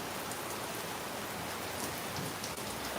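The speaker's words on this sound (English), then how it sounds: "And the rain turning up." Steady rain falls throughout, a dense, even hiss of drops striking surfaces outdoors, close and continuous with no voices.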